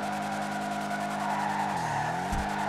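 Tires squeal in a sustained skid as a video game car spins donuts, engine droning steadily underneath with a sharp dip and rebound near the end.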